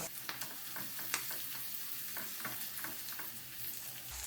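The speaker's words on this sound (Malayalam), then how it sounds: "ഒന്നങ്ങ് വഴറ്റി കൊടുക്കാം" Green chillies and curry leaves sauté in hot oil in a pan for a coconut-milk chicken curry, giving a steady, close crackling sizzle with scattered sharp pops and spoon scrapes throughout, with no talking.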